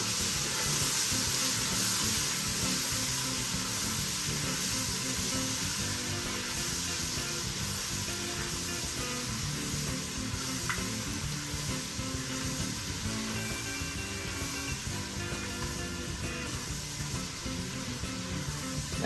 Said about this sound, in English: we're going to start to stir this all together in that bacon fat